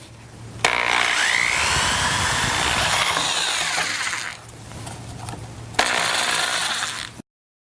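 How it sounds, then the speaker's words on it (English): A power drill fitted with a 5/8 inch spade bit bores a hole, whirring loud and close for several seconds, easing off briefly, then revving again before cutting out. "I'll finish the hole by drilling with this 5/8 inch spade bit"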